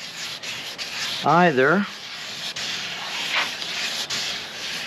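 Wet sanding of cracked gelcoat on a boat hull, a steady close-up rasping rub that continues throughout, with a brief spoken word partway through.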